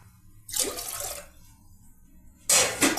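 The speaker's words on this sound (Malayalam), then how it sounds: "3 ഗ്ലാസ് വെള്ളം ഒഴിക്കുക." Water poured into a pot for chana curry, heard as two short splashing pours, close and fairly loud, the second starting abruptly near the end with a quiet pause between.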